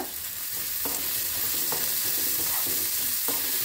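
Onions frying in a little oil in a pan, a steady close sizzle with a few soft stirring scrapes at regular intervals, no voices.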